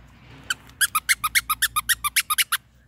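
A squeaky zebra button toy squeaks in a quick run of about fourteen sharp, evenly spaced squeaks, loud and close with nothing else around them.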